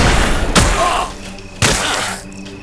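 Two sharp gunshots from the video game Risen 3 ring out about a second apart, each a loud, close burst that trails off into a quieter background.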